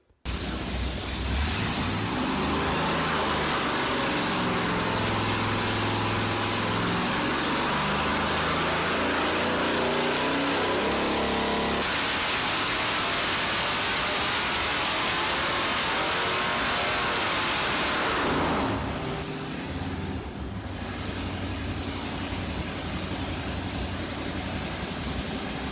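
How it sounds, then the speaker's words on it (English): A Mopar 440 V8 fitted with nitrous, installed in an RV, revs hard and loud for about twenty seconds, its roar rising and falling in repeated pulls before easing off near the end, with no voices over it. "With the nitrous installed on our 440 Mopar, what do you say? Let's make some noise."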